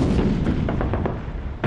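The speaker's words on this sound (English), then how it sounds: "Fritz put down a barrage like nothing I'd heard before. His name for this type of artillery fire was Trommelfeuer, which means drum fire." A German artillery barrage on the Western Front in 1918, drum fire: a dense, continuous rumble of overlapping distant detonations with repeated thuds rolling together without pause.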